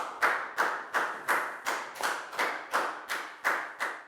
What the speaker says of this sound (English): Big round of applause for Net, please, guys.